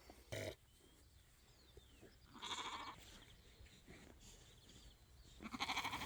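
Sheep on a homestead in Tasman, New Zealand, bleating in three short bursts spread across a quiet outdoor background, with the last call the loudest.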